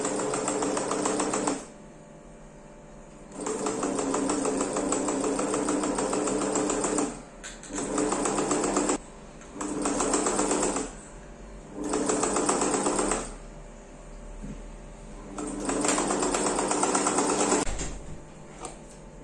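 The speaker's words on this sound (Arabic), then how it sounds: "وتنبداو في الخياطه" A sewing machine stitching a fabric cover for a dough-kneading bowl, running in loud close bursts of rapid whirring stitches that stop and start several times over about twenty seconds, with no talking.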